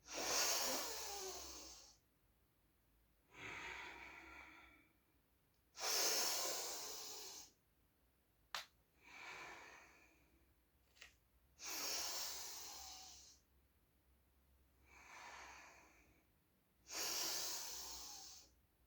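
Deep, slow breaths during a Kundalini yoga exercise come close and clear, each long hissing inhale or exhale followed by a quiet pause, about six in a steady rhythm, with no talking.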